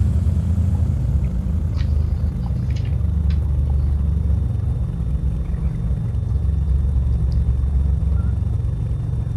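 A light aircraft engine in the X-Plane 10 flight simulator idles near 1,000 RPM, a loud, constant low rumble that drones on without change, with no one talking over it.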